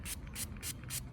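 Repeated quick hisses of a handheld spritz bottle spraying water onto artwork, about five evenly spaced bursts, close and fairly quiet with no talk.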